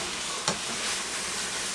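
Food being stir-fried in a tilting home wok over a weak household flame, a steady close sizzle with a short clatter of stirring partway through.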